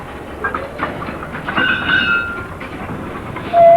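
Freight train wagons clank and roll in a rail yard, with metallic squeals and a brief whistle-like tone at the end, moderately close.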